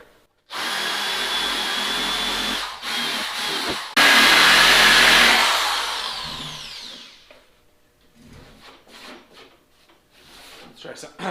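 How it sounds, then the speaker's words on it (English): High whirring of a power drill spinning a wire brush against seam sealer on a 1971 Pontiac GTO body, loud grinding bursts that rise and then fade, followed by quieter scraping and handling noises, with talk in the background. "That wire brush doesn't want to take the seam sealer out very well."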